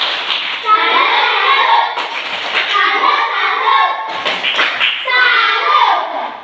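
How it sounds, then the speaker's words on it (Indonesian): A group claps a rhythmic salute in a classroom-style session, loud and close, in patterned bursts with a few thumps and children's voices mixed in. "kita tepuk salut untuk kelompok 3"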